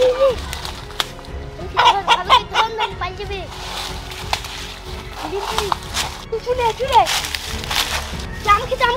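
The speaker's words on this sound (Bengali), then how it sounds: "ধরেছি কালো মোরগটা" A black rooster, just caught by hand, clucks in short agitated bursts, with voices talking close by and brief rustling scuffles among the calls.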